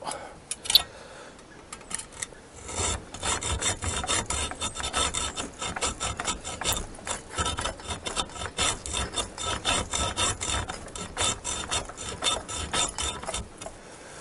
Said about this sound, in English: Let's make the groove a bit wider with the bigger saw.